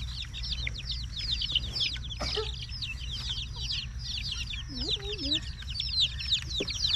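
Chickens cluck and chirp steadily in a farmyard while being fed worms, with a constant low hum underneath and occasional sharper squawks.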